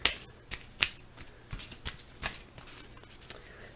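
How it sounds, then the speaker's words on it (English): A deck of cards being shuffled and drawn one at a time, heard as a series of soft, crisp flicks and snaps spaced irregularly over a few seconds, close up and fairly quiet with no talking. "I'm going to be shuffling and then drawing the cards"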